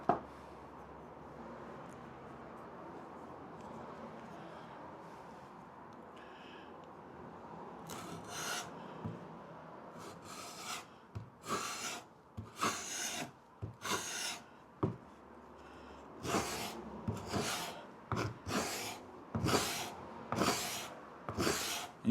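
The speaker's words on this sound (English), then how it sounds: "You see it scraping there." Hand scraper rasping across wood to strip old varnish: a soft continuous rubbing gives way to a series of sharp, rhythmic scraping strokes, close and alone.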